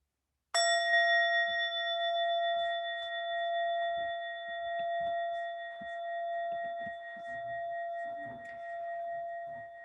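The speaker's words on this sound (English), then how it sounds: "I'm going to ring a bell once" A single bell strike at a Day of Peace gathering, a clear ring that sustains and slowly decays for several seconds, with faint scattered room noises beneath it and no talking.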